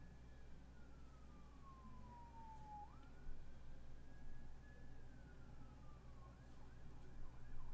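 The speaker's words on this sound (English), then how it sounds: "Police sirens." A police siren wails faintly in the distance, its pitch gliding down slowly and then back up over a steady low background hum.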